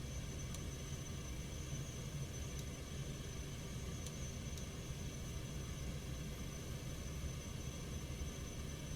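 Citation X jet engines at climb thrust in X-Plane 12, a steady, dense broadband roar with deep rumble, constant and unbroken, with faint occasional clicks and no voices.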